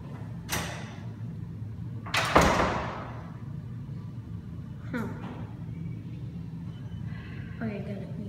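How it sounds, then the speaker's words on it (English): Otis Series 6 elevator doors at a hospital slide slowly, with a few mechanical thumps and scrapes and a sharper knock partway through, set against a steady machine hum with faint voices nearby. "And very slow doors."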